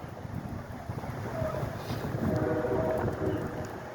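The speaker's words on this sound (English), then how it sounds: "Another train coming in inbound." A commuter rail train approaches on its track at the scene of a car stopped on the line, a low broad rumble that builds steadily under heavy wind buffeting, fairly distant and continuous.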